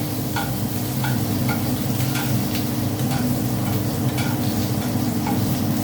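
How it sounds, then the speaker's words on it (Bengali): Sliced bitter gourd fries in a spice tempering for a lentil dish: a steady, close sizzle runs throughout, with light stirring clicks scattered over the even frying hiss. "ফোড়নটার সাথে উচ্ছেটা আমি ভেজে নিলাম।"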